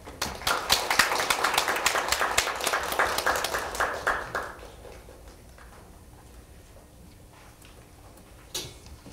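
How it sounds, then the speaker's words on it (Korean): A modest audience at an intellectual property policy forum claps to welcome the forum chair, a Korea University law professor. The individual claps are crisp and close, continue for about four seconds, then fade into a quiet room with one stray knock near the end. "박수로 맞이해 주시기 바랍니다"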